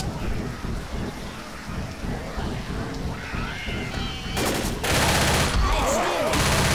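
Left 4 Dead gunfire breaks out as rapid bursts of automatic shots, loud and close, over a rain-like wash of game ambience that swells near the end.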